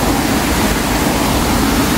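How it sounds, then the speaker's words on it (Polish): A waterfall roars steadily at close range, a dense continuous rush of falling water with no pauses, filling the whole clip at high loudness. "znów jesteśmy przy wodospadzie"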